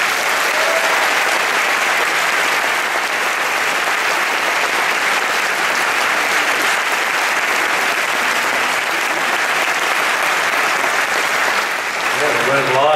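A cinema audience applauds steadily to welcome actor Paddy Considine before a film screening, sustained dense clapping throughout that thins slightly near the end.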